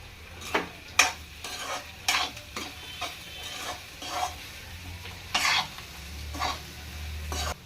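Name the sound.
stirring potato fry with spices in a pan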